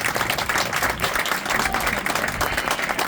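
A crowd at an outdoor street-naming ceremony claps in a sustained round of applause for the Nolan family, dense and steady for the full three seconds.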